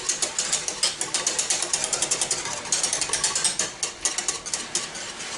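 A whisk beats banana pudding in a pot with quick, rhythmic metallic scraping and clicking strokes, steady and close throughout with no talking.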